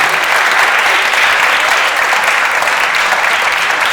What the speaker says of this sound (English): a round of applause to you too